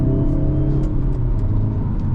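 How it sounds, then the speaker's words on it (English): Low, steady engine drone from a 2025 Hyundai Elantra N held at low revs while driving, a loud, close rumble filling the cabin without break. "keeping the revs low, of course, being a brand new engine, but it definitely has the power too"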